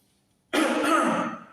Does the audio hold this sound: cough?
yes